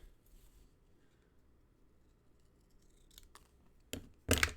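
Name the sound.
trimming paper card stock for a sketch card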